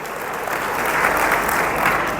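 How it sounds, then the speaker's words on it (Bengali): Seminar audience applauding the general managers, a dense, steady wash of clapping that fills the space evenly from start to finish with no talk over it. "স্যারদের জন্য জোড়া একটা করতালি হবে।"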